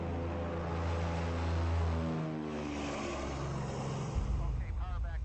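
Twin piston engines of a P-38 Lightning during climb-out after takeoff, a loud steady harmonic drone that shifts in pitch as power is eased back, with a voice talking over it.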